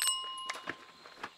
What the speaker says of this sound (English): If the bell gets these results, I'll give you the bell.